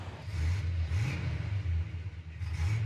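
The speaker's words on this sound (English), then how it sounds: "455 even just revving it here." A 1970 Oldsmobile Cutlass Supreme with a 455 V8 revs in a few deep, rumbling surges that rise and fall, heard close up without any talk.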